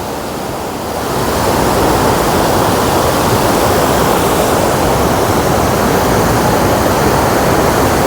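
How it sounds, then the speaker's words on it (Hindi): A fast-flowing mountain river near Astore rushes loudly and nearby, a dense, unbroken roar that swells within the first second and then holds steady throughout. "आप ये देखें दरिया का शोर कितना है, इतना तेज़ बहाव है दरिया का"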